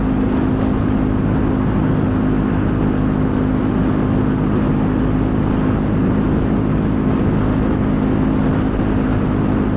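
A steady, loud engine drone with a deep rumbling hum runs continuously from a Triumph Scrambler 400X motorcycle exhaust at constant speed while riding, with wind noise and no talking.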